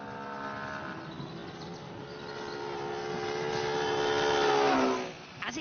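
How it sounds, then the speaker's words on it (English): A vehicle engine drones steadily as it passes, its tone sliding and swelling toward a peak near the end before dropping away quickly, with no voices over it. "Now listen carefully to the sound of the engine."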